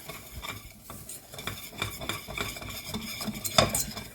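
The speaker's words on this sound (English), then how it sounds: "I'm just going to mix in the plain flour." Flour being stirred into melted spread in a pan to make a roux for bechamel: soft scraping and clinking of a utensil against the pan with a faint sizzle, close and steady, no talking.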